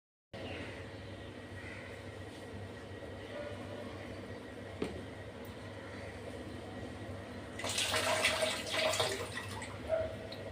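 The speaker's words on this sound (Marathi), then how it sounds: "दोन 3 पाणी स्वच्छ धुवून घेतले." Water sloshing while soaked chickpeas are rinsed clean for chana masala, a low steady wash that swells into a brief louder splash near the end, with no voices.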